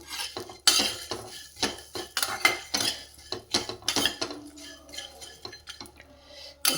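A spoon stirs a bowl of puffed rice mixed with peanuts and ground pepper, sounding as a rapid series of close metallic clinks and scrapes against the bowl, with the dry rustle of the puffed rice between them.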